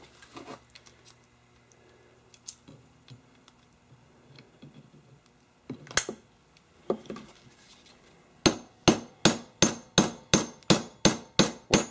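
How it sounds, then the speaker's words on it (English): A hammer peens a thick copper rivet on a machete handle: scattered light taps and clinks at first, then a fast, even run of about a dozen sharp, ringing metallic strikes close by. "Work the hammer around the rivet."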